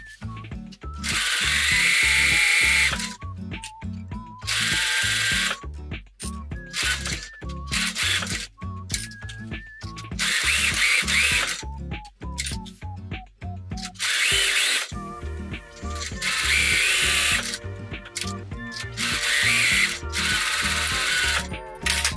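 A sewing machine stitching a seam along a zipperless cushion cover, fast mechanical chattering in repeated bursts of a few seconds separated by short pauses, close and loud with no talk.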